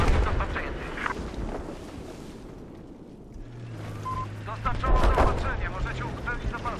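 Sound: gunfire from a shot in the video game Battlefield 4

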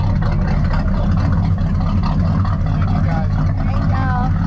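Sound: Crusader V8 engine of 1930 Chris Craft wooden boat

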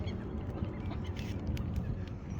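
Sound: ducks and geese being fed bread at a pond

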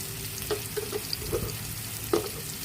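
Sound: spices frying in a pan for a bean seed curry

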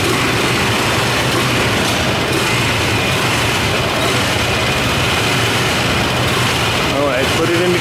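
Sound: engine driving Chris Burden's Big Wheel sculpture

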